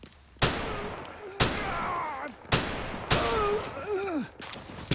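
Gunfire in the video game Palworld lands as a series of four sharp, loud shots spaced about a second apart, each one trailing off into a ringing, echoing tail with whistling game effects.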